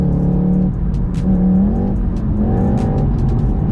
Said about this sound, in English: it sounds like a 5-cylinder, but it ain't real. It's coming from a speaker.